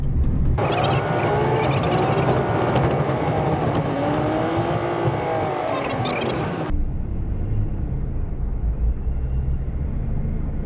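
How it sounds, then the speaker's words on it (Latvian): Scania R450 truck driving with its gearbox working, a loud steady engine and drivetrain roar that runs throughout, with a sharp drop in the upper range partway through as the tone shifts; no talk. "Šitā te krabīte strādā"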